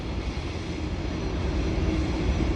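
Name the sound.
train passing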